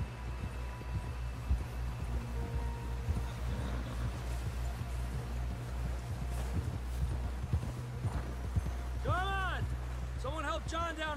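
Quick hoofbeats clop along steadily under a low rumble in the video game Red Dead Redemption 2, then a voice calls out near the end as the hooves continue.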